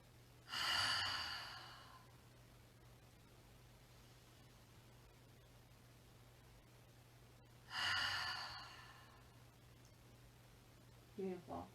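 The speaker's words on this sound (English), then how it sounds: "exhale through your mouth, making a ha sound" Two deep, breathy exhalations pushed out through the mouth with an open 'ha' during a hatha yoga session, each a few seconds long and spaced well apart, close and fairly soft over quiet room hiss with no talking.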